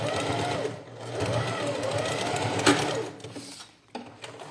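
A sewing machine stitches a plastic pouch, running in a close, steady mechanical whir that slows and stops near the end, with someone talking over it.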